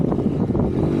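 A small-displacement race moped engine runs steadily at full throttle during a ride, a continuous loud droning rumble mixed with wind buffeting on the microphone.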